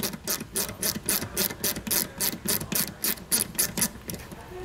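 A ratchet backs out 7 mm screws on a 2021 vehicle during a trailer hitch install, producing a continuous, rhythmic series of close, sharp clicking strokes with no talk.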